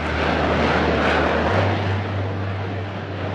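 A Harrier jump jet, a Spanish Navy vertical take-off aircraft, roaring with a loud, continuous broadband jet rush that holds steady with a low rumble underneath.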